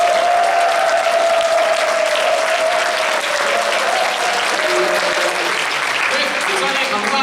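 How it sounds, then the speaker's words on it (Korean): Church congregation at a Sunday service in Auckland clapping and cheering for a visiting pastor, loud dense applause sustained throughout with a tonal voice or cheer drifting over it near the start. "박수로 환호로 한번 목사님께 감사 인사 드릴게요."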